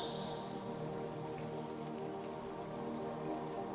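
Steady rain falling in a mossy forest, a soft continuous patter of drops on leaves and ground that stays even and close throughout, with no voices.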